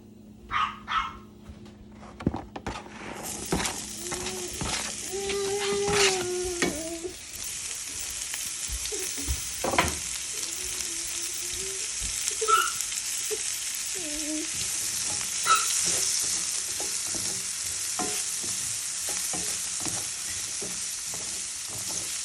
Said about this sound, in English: Now in the same skillet, I'm gonna go ahead and add more avocado oil. And I'm gonna saute the onions.